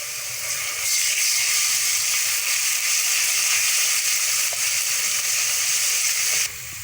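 Garlic-ginger paste dropped into hot oil with lightly golden onions, bursting into a loud, steady hiss of sizzling that runs for several seconds before easing off.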